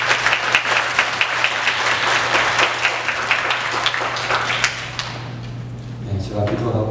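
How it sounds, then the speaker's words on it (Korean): A church congregation applauds steadily to welcome a newcomer, dense clapping for about five seconds before fading out, with a steady hum underneath and faint voices at the end. "박수로 환영하는 시간 갖겠습니다"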